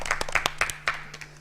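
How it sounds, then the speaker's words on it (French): A studio audience on a television talk-show set applauds a guest, Dr. Morlaye Camara, with short, loud bursts of clapping filling a brief moment. "Je vous prie d'applaudir pour M. Morlaye Camara sur ce plateau."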